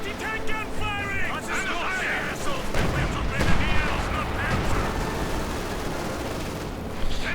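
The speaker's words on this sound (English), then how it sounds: "Anti-tank gun firing!" Heavy booming gun reports and explosions from anti-tank guns in a World War II real-time strategy match, with Soviet and German armor in play, dense and loud throughout with speech mixed into the battle noise.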